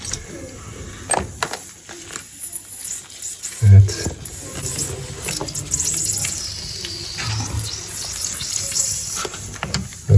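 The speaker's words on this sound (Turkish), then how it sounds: "Boruyu kastırdığım zaman çıkıyor. Bıraktığım zaman duruyor kaçak." Water leaks through a fine weld fault in a pipe, giving a steady, thin hissing spray. A heavier thump lands near the middle.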